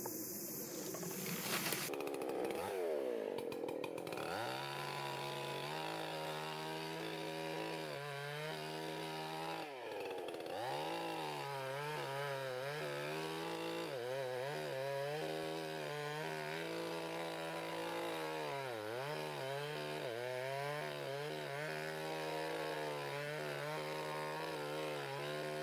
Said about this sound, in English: sharpened the other side of the saw blade. So we'll see if it works a little better now